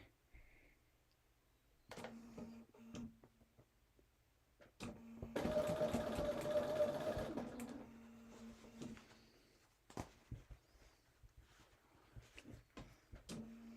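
A home sewing machine stitches a placemat seam in one sustained burst of quick mechanical whirring after a few short starts, surrounded by scattered clicks and fabric handling, with quiet stretches between.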